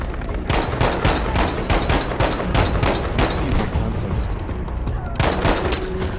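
Gunfire in the video game Battlefield V: dense, continuous rapid shots and bursts, loud and close, with a brief lull near the end, no speech over it.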